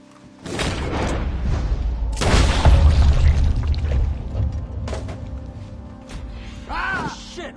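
Gunshots ring out in Red Dead Redemption 2, a few heavy booming reports with thuds and rumbling echo between them. A short voice is heard near the end.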